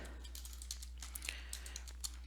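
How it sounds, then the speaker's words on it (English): Typing on a computer keyboard: quick, irregular clicks of keys at close range over a steady low electrical hum. "I'm having a problem typing"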